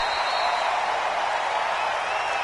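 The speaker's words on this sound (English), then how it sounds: "Combined with this crowd noise, makes it very difficult to run offense." Steady roar of a deafening stadium crowd in the Madden 20 football video game, a dense continuous wash of cheering with no distinct voices breaking through.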